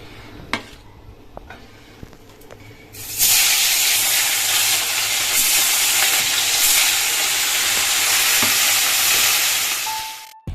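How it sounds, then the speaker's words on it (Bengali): Salted, turmeric-rubbed bata fish hits hot oil in a wok: a few faint clinks, then a loud, sudden, sustained close sizzle and hiss that carries on for several seconds before cutting off. "কড়াইয়ে তেল দিয়ে দিয়েছি তেলও কিন্তু গরম হয়ে গেছে তো এখন হচ্ছে মাছ ভাজবো"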